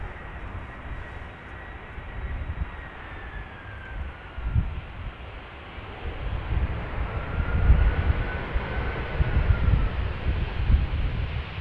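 A Suparna Boeing 747-400 at Amsterdam Schiphol gives off a moderate distant engine rumble with faint gliding whines, a steady broad roar that gusts a little louder toward the end, with some wind buffeting the microphone.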